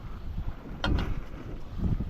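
Strong wind buffets the microphone on a fishing boat at sea near Mumbai, a continuous low rumbling roar with gusting swells and a brief brighter rustle in the middle, with no talk.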